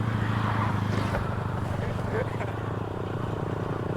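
A Bajaj Pulsar NS 125 motorcycle on the move gives a steady, close engine drone with a low rumbling tone, blended with constant wind and road noise throughout.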